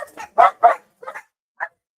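Puppies let out a few short, sharp yaps and barks in quick succession, close and fairly loud, with brief silences between them.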